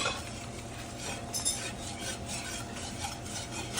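A whisk scrapes and stirs steadily in a hot pot as liquid is poured into a cooking roux for a seafood stew with potatoes. The strokes are soft and continuous, with faint clinks of metal against the pan.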